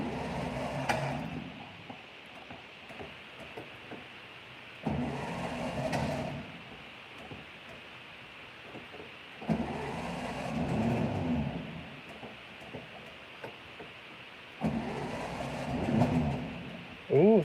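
1967 Volkswagen Beetle engine cranking without catching, four separate bursts of rough churning starter noise a few seconds apart, each cutting off into quiet, with faint background noise between.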